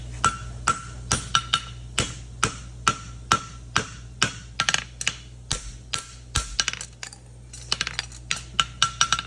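Blacksmith's hammer striking steel on an anvil in a steady series of sharp, ringing blows, about two per second, close and loud, with a brief pause partway through before the strikes resume.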